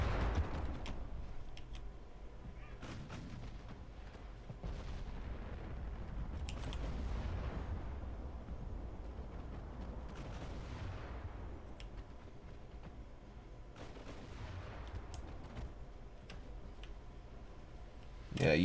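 Naval gunfire in the warship game Ultimate Admiral: Dreadnoughts booms and cracks in scattered bursts over a low rumble, some shots close and sharp, others distant and muffled.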